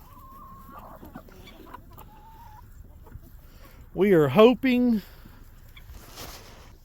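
Pasture-raised laying hens and roosters on an egg farm, with soft clucks early on and a loud burst of rooster crowing in the middle, alone and nearby, followed by a short remark from a woman.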